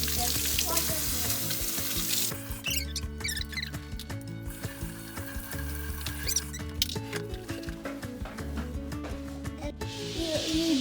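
Water runs steadily from a tap while hands are washed before making banana pancakes, a continuous hiss across the whole stretch with a tonal background layer that may be music.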